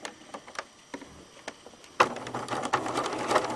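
A sewing machine stitches napped velvet fabric; scattered soft clicks and handling noises give way halfway through to a close, rapid run of mechanical needle chatter.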